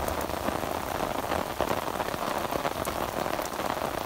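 Heavy downpour in the Pothwar region during a thunderstorm, a steady dense hiss of rain drumming on surfaces, close and constant for the whole stretch, with no distinct thunderclap standing out.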